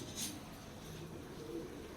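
Pigeons kept by a fancier in Gopal Katra, Prayagraj, coo faintly in low murmurs at a distance, with a brief rustle early on and no one speaking.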